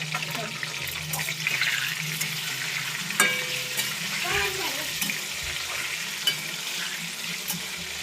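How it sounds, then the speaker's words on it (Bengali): Potatoes fry in oil with a steady, crackling sizzle close by, broken by occasional sharp clicks and scrapes of a utensil against the pan. "এবার আলুগুলো ভাজা হয়ে গেছে, একে একে তুলে নেব।"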